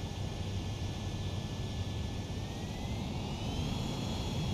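Steady, close roar of a Su-35S jet engine on landing approach in Ace Combat 7, a broad rushing drone with a faint rising whine that holds constant throughout, with no talk.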